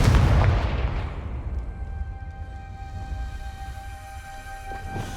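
Confringo explosive spell blast from the video game Hogwarts Legacy, a single heavy boom at the start that decays into a long, fading rumble, ending in a faint later burst.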